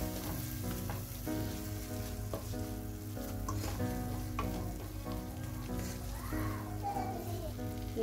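Chana masala being stirred in a frying pan for fried rice, a constant sizzle with scraping spoon strokes against the pan and a faint voice now and then.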